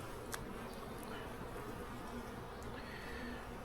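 A steady, dense insect buzz of many dark honey bees in a hive failing with a drone-laying queen, faint and continuous throughout, with no voices.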